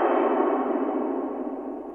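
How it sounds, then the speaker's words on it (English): A piano played through an atmospheric effects chain with the reverb set to full, giving a dense, washed-out sustained wash of sound with no distinct note edges. "Now everything is full of reverb."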